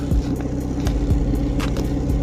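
A car fitted with a quick mod to lower engine temperatures is driven, its engine giving a steady, close low rumble with a few brief rises in revs, and no talk over it.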